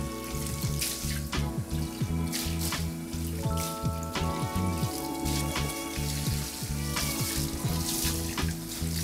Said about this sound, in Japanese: シンクも汚れていたので、軽く食器用洗剤で洗っておきます。